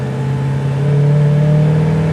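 A 1962 Chevy Impala SS with a 327 V8 revving up, a steady close, loud engine drone that climbs and holds in pitch with no voices.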